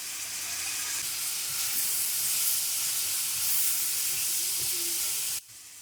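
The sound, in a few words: spices roasting in pan for mutton korma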